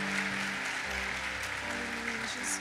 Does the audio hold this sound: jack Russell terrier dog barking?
no